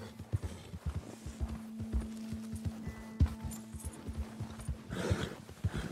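White Arabian horse in Red Dead Redemption 2, near Lake Isabella, with steady clip-clopping hooves throughout and a brief louder burst near the end that may be a whinny.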